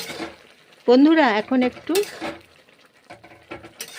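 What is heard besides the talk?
stirring and frying broccoli, pea and mung dal curry in pan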